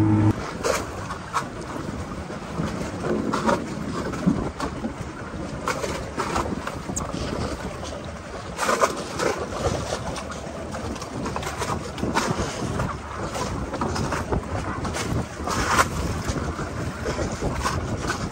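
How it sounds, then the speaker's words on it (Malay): Strong wind buffets the microphone on a fishing boat out on the water, a loud, continuous roar of gusts with waves washing underneath, no voices. "Angin kuat."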